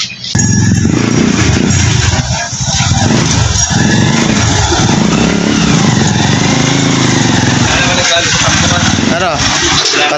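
A Honda TMX Supremo motorcycle engine runs loudly and steadily up close, a constant rough drone throughout, with a voice faintly mixed in at moments.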